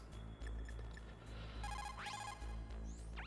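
An in-game phone call rings in Metal Gear Solid: The Twin Snakes, short beeping rings rising over a steady hum of game background sound, moderately loud, with no talking.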